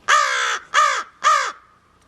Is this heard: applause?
no